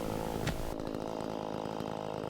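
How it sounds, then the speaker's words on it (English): A chainsaw running steadily, its engine whining and buzzing as it cuts a tree stump low to the ground, loud and close, with a brief bump at the end. "take your chainsaw and cut them as low as possible"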